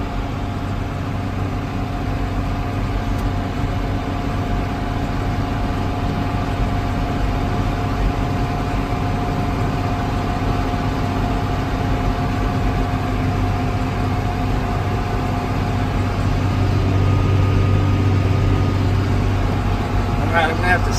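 A 1992 John Deere 4055 tractor engine runs at a steady 1900 RPM with a loud, continuous drone heard up close from the cab, while someone talks over it.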